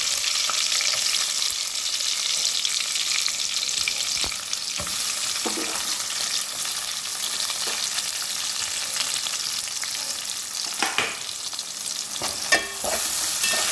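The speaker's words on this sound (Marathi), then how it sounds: "हे उभ्या 2 चिरून घेतलेल्या मिरच्या घालूया आणि लगेच कांदा घालूया." Slit green chillies and onion fry in hot oil for veg pulao, producing a loud, constant close-up sizzle with occasional spoon scrapes and stirring clatter, with no one talking.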